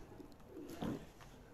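Faisalabadi breed pigeons on a rooftop loft in Mansoorabad give a brief, faint coo that swells once near the middle over low background rumble.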